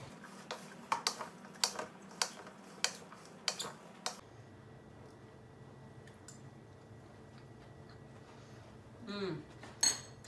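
A utensil scrapes and clinks in a grain bowl dressed with olive oil and lemon juice, sending sharp taps in a quick irregular run that fades into quiet handling, with one more clatter at the end.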